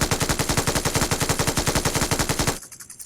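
Rapid automatic gunfire in a shooting video game, a loud, close, evenly spaced burst of about twenty shots that stops abruptly near the end, with no talk over it.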